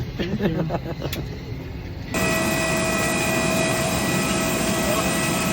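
An airplane's jet engines roar in a steady, loud wash from inside the cabin on a first flight, coming in abruptly after a few seconds of quieter sound with voices.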